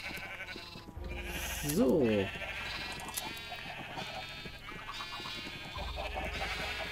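Sheep bleating in the video game Minecraft, one wavering bleat standing out over steady background music and game ambience, with someone speaking German around it.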